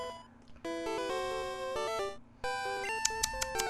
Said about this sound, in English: That's the sound of metronome.